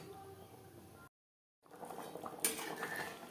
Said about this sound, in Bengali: গ্রেভির সাথে মাছ বেশ ভালো করে মিক্সড করে দেব।